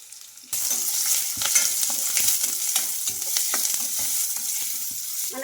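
Chopped onions, green chillies and curry leaves fry in a pan for bottle gourd masala puri. A loud, steady sizzle starts abruptly and continues, with light stirring scrapes and clicks over it.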